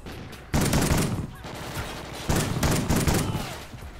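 Shotgun blasts in Call of Duty Ghosts ring out in two loud bursts, each a sharp boom followed by a rumbling decay, the second arriving about two seconds after the first.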